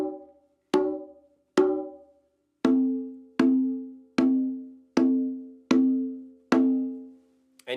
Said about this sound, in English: The next tone is called the open tone, and that's the basic speaking tone of the drum.